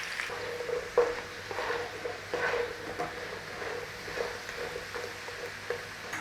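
Potatoes sizzling softly in a hot pan for a breakfast hash, with occasional scrapes and clacks as they are turned over, steady and fairly quiet.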